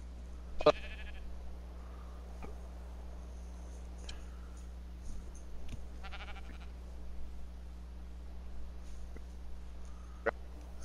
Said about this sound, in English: I'm about to kill the sheep.